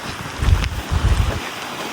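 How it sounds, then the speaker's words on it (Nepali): Wind gusts across the summit of Mount Hamilton near San Jose, California. Heavy low buffeting thumps against the microphone come in two or three rough surges over a steady airy hiss. "यस्तो मजाले हावा लागिरहेछ"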